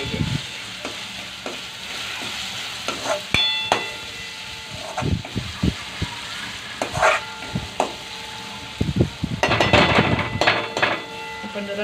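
Tomato frying in a pan for moong bhaji, a steady sizzle running throughout with scattered clinks and scrapes of stirring, growing louder and busier toward the end.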